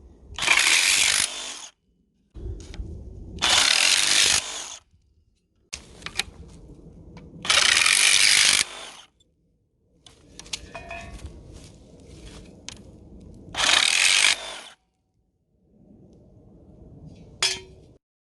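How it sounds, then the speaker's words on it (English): DeWalt 20V XR brushless reciprocating saw (DCS368W1) with a metal-cutting blade cutting metal outdoors, several loud buzzing bursts of a second or so, separated by clanks and handling rattles, close and without talk. "Now we're going to cut some metal. Different blade."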